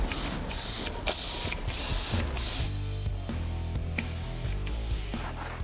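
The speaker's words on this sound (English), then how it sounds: "I'm gonna just spray it on back here in the back, and then up here, spray it on, and then wipe off the excess." Protectant spray being applied onto the body of a '69 Road Runner with patina paint, several short hissing spray bursts in the first half, followed by softer rubbing and handling noises nearby.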